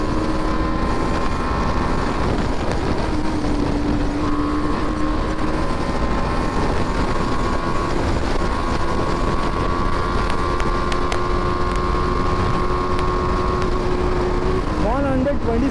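A BMW 310R motorcycle at full throttle, a continuous loud droning exhaust note rising in pitch through the gears with brief dips at the shifts, steady wind rush underneath.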